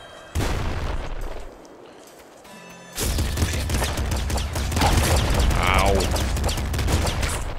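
Machine gun fire in the video game Nuclear Throne: dense, steady bursts of rapid synthetic gunfire and impacts fill the mix, a brief pause dropping to quieter game sound before the firing resumes louder, with a short voice exclaiming once.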